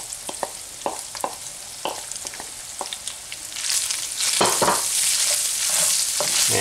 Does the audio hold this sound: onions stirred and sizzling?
yes